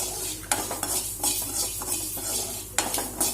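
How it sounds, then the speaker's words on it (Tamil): Mustard seeds fry in a hot pan while a utensil stirs and scrapes against the metal. Soft sizzling is broken by sharp, scattered pops and clicks. "இப்போ பார்த்தீங்கன்னா நல்லா அந்த கடுகு பார்த்தீங்கன்னா ஃப்ரை ஆகிட்டுருக்கு, அப்படியே வெடிக்குது பாருங்கள்."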